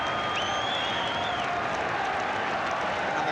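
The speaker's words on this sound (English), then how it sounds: "And the crowd again are on their feet, applauding." Football crowd on its feet applauding at an English league match, a dense, sustained roar of clapping and cheering filling the stadium, loud and steady throughout.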